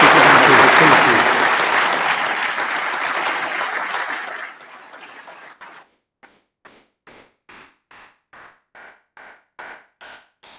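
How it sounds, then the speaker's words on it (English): A large audience applauds loudly at a graduation ceremony, with the sustained clapping fading after about four seconds into a series of sparse, scattered claps. "That applause was very, very, very well deserved."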